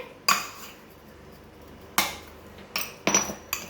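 Chilli flakes and salt mixed in a bowl, heard as four sharp, separate clinks of a utensil striking the bowl, the later ones closer together, over a low background hiss.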